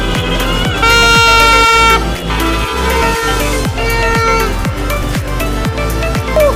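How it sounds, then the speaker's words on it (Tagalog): Loud motorcycle horns blaring in long sustained blasts at a New Year celebration, over a steady thumping beat and a noisy festive crowd. "Blow your horn."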